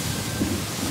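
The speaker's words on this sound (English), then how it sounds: "It's just constantly raining." Dense, steady roar of heavy hurricane rain and storm wind on an island, continuous broadband wash with no voices.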